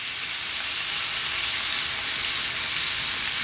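Oil sizzling in a hot pan while beef broccoli with oyster sauce is cooked, a loud, steady, close frying hiss that fills the whole moment without a break.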